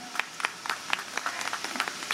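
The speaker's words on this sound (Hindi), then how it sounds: "जो लोग यहाँ पर रह गए हैं उनको उनके हिस्से की तालियां बजानी पड़ेंगी" Sparse clapping from a small audience at a Hindi poetry gathering (kavi sammelan) in Unnao. Distinct individual claps land irregularly, close and fairly crisp, over a quiet room for about two seconds.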